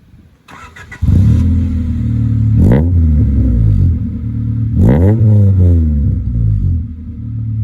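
A Honda Civic engine idles loudly, then revs sharply twice in rising, falling sweeps, up close with a steady rumble between the blips.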